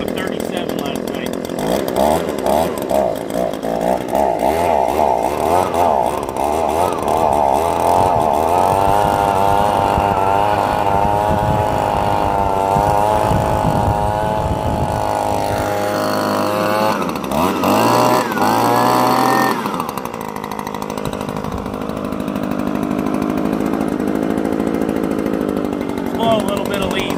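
An Echo PB 2520 handheld two-stroke leaf blower runs with a loud, buzzing engine whine that shifts in pitch as it is throttled, then drops off near the end.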